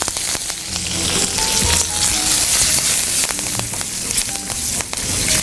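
A tempering of urad dal, asafoetida, dried red chillies and curry leaves fries in hot oil, giving a loud continuous sizzle with crackling pops, close up and alone for a bottle gourd dish.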